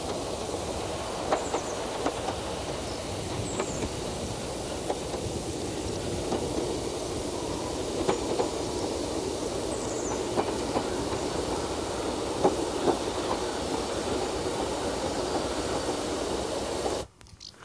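A train runs through Cumbria in northern England toward Dent station on the high Pennine line, a steady rumbling roar with faint rhythmic wheel clicks throughout, cutting off abruptly at the end.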